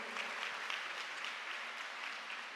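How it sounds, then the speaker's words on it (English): Steady applause from a crowd fills a hall at a European jigsaw puzzle championship opening ceremony as the helpers are thanked, the clapping dense and even throughout. "A big applause for the helpers."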